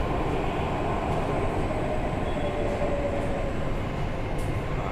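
Mira-Bhayandar Metro Line 9 train riding along, heard from inside the carriage as a steady, loud rumble and roar of wheels and motors, continuous with a faint high whine passing midway and no talk.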